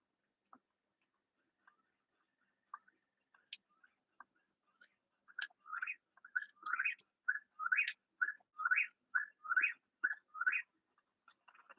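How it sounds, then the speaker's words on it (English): Bird chirps in Legend of Zelda: Breath of the Wild, a run of bright, rhythmic whistled calls repeating steadily, preceded by a few sparse faint ticks, clear against a quiet background. "Birds!"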